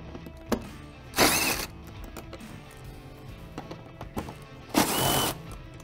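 Torx T30 bolts are backed out of Can-Am Commander UTV fenders, with scattered small clicks and ratcheting taps and two longer bursts of loud whirring from a power driver, close by.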